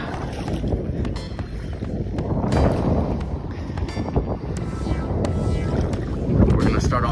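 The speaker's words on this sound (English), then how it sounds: "It's a little windy out here." Wind gusts across open water on a fishing outing from a small boat, a steady rushing buffet against the microphone with louder swells, no clear talking.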